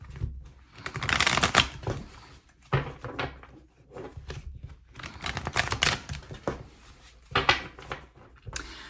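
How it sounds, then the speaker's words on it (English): Tarot cards shuffled by hand in a series of crisp riffling bursts and soft slides, close and clear, with short quiet pauses between rounds and no talking. "All right, so I'll shuffle."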